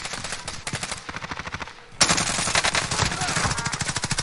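Gunfire in an online shooter game, a fast stream of loud repeated shots that dips briefly, then resumes louder and continues steadily.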